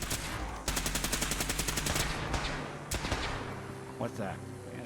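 Sustained rapid gunfire in Fallout 4 rattles loud and near through most of the stretch, then gives way to a couple of heavier single shots and quieter game sounds.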